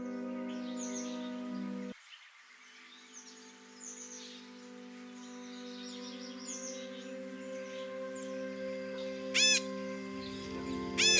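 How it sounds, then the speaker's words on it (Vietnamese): Birds call across the Amazon rainforest at dusk, scattered chirps and whistles layered over a steady insect-like drone, with a few sharper repeated calls near the end. "tiếng chim Capia trên rừng mưa Amazon bỗng bừng sáng một thế giới khác, một thế giới của sắc màu và tiếng hót"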